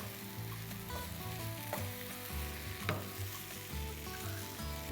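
Steady sizzling of egg rice with capsicum frying in a pan, with a spatula scraping and clinking as the mixture is stirred; no voices.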